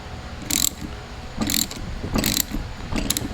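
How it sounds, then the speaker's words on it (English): A ratchet wrench tightens a fastener in four quick bursts of sharp metallic clicking, close and loud, separated by short pauses with a low background hum and no talk. "So as we tighten this, what a crappy ratchet that is, man."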